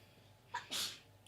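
A single sharp sneeze, close and fairly quiet, with a short breathy intake just before it.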